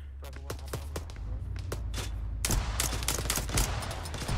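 Gunfire in the military video game ArmA 3: sharp repeated shots crack in irregular bursts, growing into a dense fusillade of overlapping rounds, some close and loud, others more distant.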